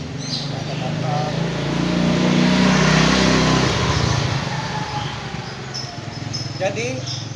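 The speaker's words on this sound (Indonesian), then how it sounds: "ada motor." A motorcycle approaches and passes by, its engine rising to a loud buzzing roar then fading away, with a voice speaking before and after.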